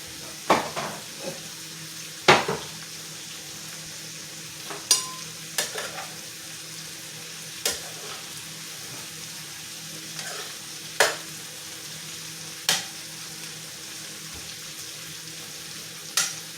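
Onions and squash frying in butter and oil in a pan, a steady quiet sizzle broken by sharp clinks and scrapes of a utensil stirring every second or two.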